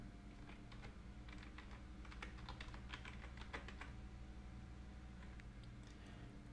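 Fingers type on a computer keyboard, entering text into a search box: a quick burst of soft, close key clicks that thins out and stops, over a faint low hum, with no speech.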